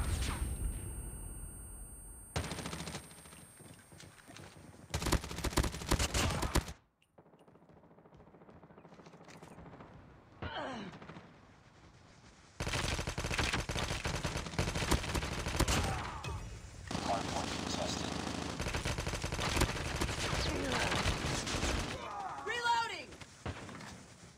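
Gunfire in Call of Duty: dense bursts of automatic shots and sharp blasts come in several loud stretches separated by a quieter lull, with in-game voices calling out over the action.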